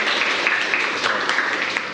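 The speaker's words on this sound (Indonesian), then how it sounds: "tepuk tangan untuk Dela" Applause for a student named Dela in a classroom setting, a continuous dense patter of many hands clapping at moderate loudness, steady throughout with no talking over it.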